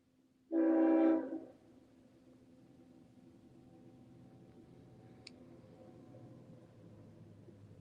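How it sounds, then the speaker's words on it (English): A train horn gives one loud, sustained blast, then a long, faint rumble of the train rolling past in the distance. "we got a BS train coming through"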